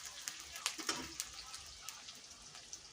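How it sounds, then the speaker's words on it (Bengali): Onions fry in a pan with faint, scattered crackles and small popping spits over a soft background sizzle. "দেখো পেঁয়াজ একটু ভেজে নিচ্ছি আমি।"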